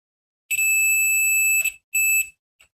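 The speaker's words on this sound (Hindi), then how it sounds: "तो बीप का आवाज़ सुनाई देगा।" A digital multimeter on continuity test gives a loud, piercing electronic beep from shorted probes, one long tone of about a second, then a shorter beep and a tiny final blip, with no talk.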